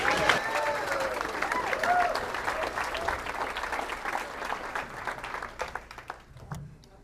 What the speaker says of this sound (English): give a huge round of applause for my friend David Pfeiffer coming to the stage